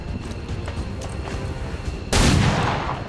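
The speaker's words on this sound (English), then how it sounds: "hitting him with the pistol will still do that" A single pistol shot in the XCOM video game rings out sharp and loud after a stretch of busy game background noise, its burst spreading across the whole range and fading slowly.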